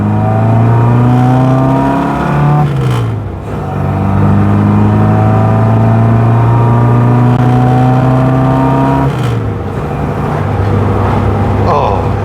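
Austin A35 van with its A-Series engine revving hard on the move, loud and close, with pitch sweeping up and dropping back around gear changes and a strong vibrating drone throughout.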